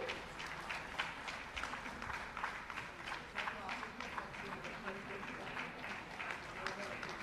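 An audience applauds at a felicitation ceremony for school toilet construction, a continuous patter of many hands clapping at moderate distance, fairly quiet and sustained throughout.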